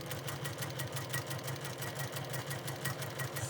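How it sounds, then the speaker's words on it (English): A sewing machine stitches quilt block pieces for a Birds in the Air block, giving a steady rapid needle chatter with a low motor hum that runs continuously and close throughout, with no talking. "So I'm going to sew it with the piece side up"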